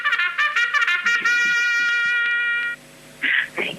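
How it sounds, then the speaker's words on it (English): A horn plays a short run of sustained, bright notes for a radio caller, loud and close, then stops before a brief higher burst near the end. "I just want to play my horn for you."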